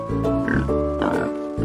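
A short burst of grunting, snorting oinks from a pig, close and fairly loud, lasting under two seconds.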